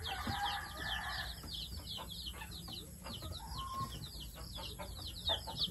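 A brood of chicks peeping during vaccination with Lasota and IB vaccines, constant high chirps from many birds close by, with handling noises and brief murmured talk underneath.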